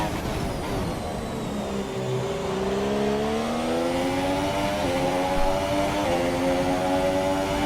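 Race car engine in a sim racing game, the car driven hard and sliding through corners, a steady loud drone that climbs in pitch as it accelerates, with gear-change steps and continuous tyre and road noise.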